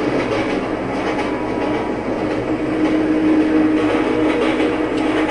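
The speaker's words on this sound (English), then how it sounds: "Train!" Train rushing past in the MX vs ATV off-road racing game, a steady loud rumble with a rail hum and wheel rattle that holds for the whole stretch, no voices over it.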